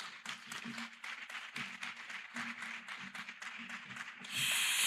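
Scattered applause from a gala dinner audience at a Special Olympics opening, moderately quiet and steady, with a sudden brighter hiss near the end.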